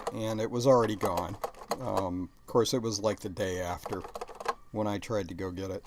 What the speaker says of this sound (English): Sorry about the keyboard noise.